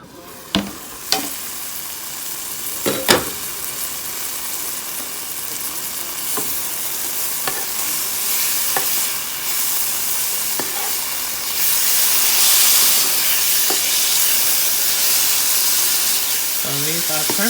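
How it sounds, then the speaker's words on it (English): Chicken cutlets sizzle and steam in a covered pan, a steady loud frying hiss throughout with a few sharp clinks early on and the sizzle swelling louder toward the end. "now I'm going to go ahead and put the top on and trap that steam in here."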